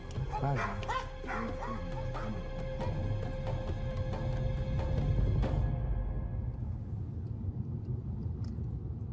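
Dogs bark and yip repeatedly during a car search at a West Bank checkpoint near Nablus, sharp overlapping barks for several seconds before fading, heard at a moderate distance under a low rumble.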